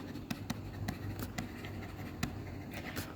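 Pen writing on paper, soft scratchy strokes with small sharp ticks as the tip lifts and lands, close and quiet, steady for a few seconds.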